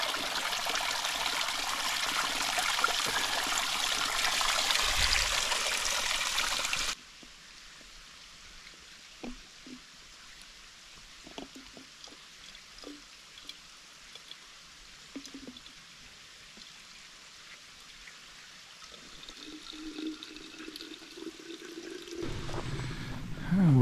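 Stream water trickling and splashing on a mountain trail, loud and steady at first, then quieter scattered drips and gurgles with a brief rush near the end.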